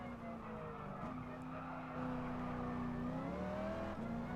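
Race car engine in Gran Turismo Sport braking hard into the final turn, with a steady droning tone that drops in pitch as it downshifts, then climbs again on the exit, loud and continuous without talk.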